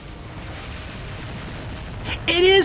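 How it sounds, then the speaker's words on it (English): Phoenix Cannon fire in the video game Descent 2: a low rumbling bed of gunfire and explosions builds, then bright, sharp energy-weapon shots burst out loudly near the end. "Okay, let's try Phoenix Cannon now."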